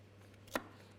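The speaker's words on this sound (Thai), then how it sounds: "เดี๋ยวเราจะเอาเบคอนมานะคะแล้วก็ หั่นเป็นชิ้นเล็กๆ" A knife chops bacon on a cutting board, one sharp close impact standing out alone over a steady low hum.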